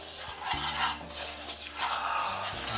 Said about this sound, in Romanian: Ulei de orez și gătesc un pic măcinătura de condimente.